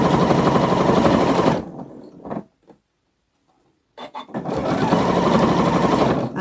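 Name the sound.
sewing machine stitching Gemini sewing pattern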